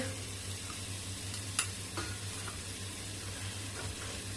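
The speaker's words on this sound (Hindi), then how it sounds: "अब इन सबको अच्छे से इसमें मिक्स करके भून लेंगे।" Dry ground spices with turmeric and coriander powder stirred and roasted in a pan, a soft steady sizzle with a few light scraping stirs and a low hum underneath.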